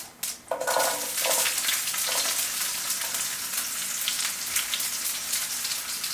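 Garlic hits hot oil already crackling with mustard seeds, cumin and asafoetida, bursting into a loud, dense sizzle that stays steady and close to the end.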